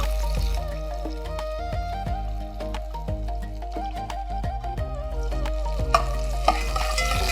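Long-sliced onion sizzles in hot oil in a pan as it is fried for biryani, with repeated scraping and stirring of a spoon against the pan, close and steady.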